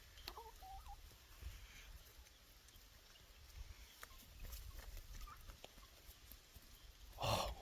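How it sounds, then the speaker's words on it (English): Backyard chickens cluck and squawk in scattered bursts while fighting over a baby copperhead snake, with a louder close squawk near the end over faint outdoor background. "The chickens are all fighting over this."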